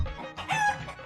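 A chicken's call, a single short, bright clucking or crowing burst with a low thump at the start. It is clear and close, with no talking.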